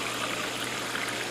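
Seltzer water pours into a glass of muddled wild grapes with a steady fizzing trickle, close and continuous, and no one talks over it.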